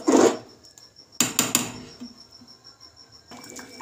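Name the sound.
spatula stirring khichuri in a pot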